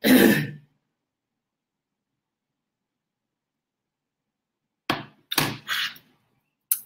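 A person clears their throat and coughs nearby, with one harsh burst at the start, a long silence, then a quick cluster of three or four rough coughs.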